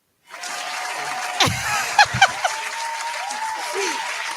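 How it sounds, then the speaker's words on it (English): Audience applause in a talk-show studio setting, a steady wash of clapping that starts abruptly and holds at moderate level, with a few louder claps and brief murmurs or chuckles breaking through. "Do that clap."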